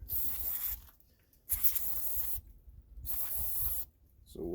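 Carb cleaner sprayed from an aerosol can during Kawasaki KX85 dirt bike maintenance: three sharp, close hissing bursts, each about a second long, separated by brief pauses.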